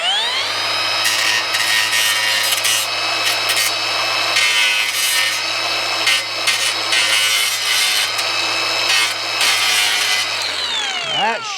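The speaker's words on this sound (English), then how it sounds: "I got to make sure the paint is all scratched off where this this plate's going to go" Paint is scraped off a metal plate for solar panel grounding, with a steady, close grinding and rasping under a constant motor-like hum that stays loud throughout and winds down at the end.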